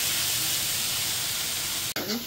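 Luchi fry in hot oil in a pan, giving off a steady, dense sizzle and hiss that continues without a break, with a brief clatter near the end and a voice faintly present.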